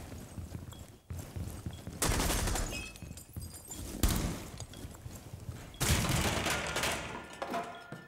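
Light machine gun fire in the video game Rainbow Six Siege, loud bursts of rapid gunfire coming in several waves with short gaps between them.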